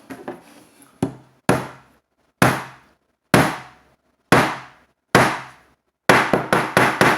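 A hammer drives a nail into a handmade round-handled wooden basket, with sharp, close knocks spaced about a second apart, then a quicker burst of four blows at the end; no talking.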